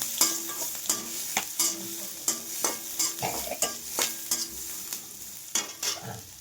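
Onions sautéing in a pan for aval upma, with a soft sizzle under repeated rhythmic scraping and stirring strokes of a spoon, close up and without voices.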